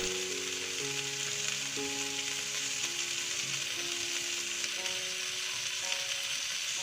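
Cauliflower stir-fries in a pan with a steady, close sizzle and occasional scraping as it is stirred, while soft melodic music plays underneath.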